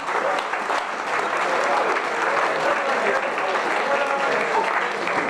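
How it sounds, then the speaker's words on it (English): An audience at a sports club's season prize giving ceremony breaks into applause, a thick, even roar of many people clapping that holds steady throughout. "you should give them a round of applause for doing it"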